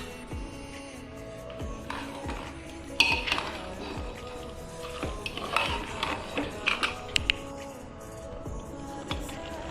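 Mutton curry with spices is stirred in a pot on the stove, a spoon scraping and clinking against the metal in repeated strokes, with faint sizzling underneath.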